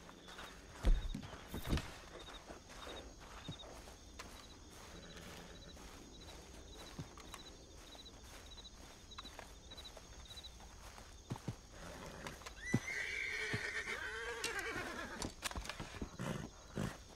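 A horse in the RedM video game, with scattered hoof clops and footsteps over quiet ambience, a thump near the start and a whinny-like rise late in the clip, faint and distant overall.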